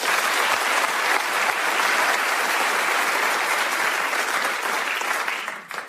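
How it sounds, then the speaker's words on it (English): A studio audience at a comedy panel show applauds warmly, a dense, even wash of clapping that holds loud for several seconds before tailing off at the end. "let's hear it for Hannah Hawkswell"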